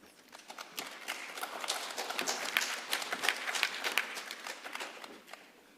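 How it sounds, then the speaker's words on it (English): An audience at the UNESCO Africa Engineering Conference applauds after a technical talk, a fairly distant patter of many hands. The clapping swells from soft to a fuller peak in the middle, then tapers off. "Let's give him another round of applause."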